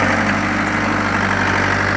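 A tractor engine idles steadily at close range, a continuous low mechanical drone with a constant hum and vibration, no voices over it.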